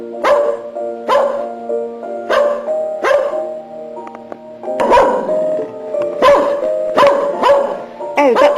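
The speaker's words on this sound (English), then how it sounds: "Oh, that's one of our dogs." A dog barks repeatedly at a steady rhythm, loud and close, with about nine sharp barks over several seconds, alone without talk.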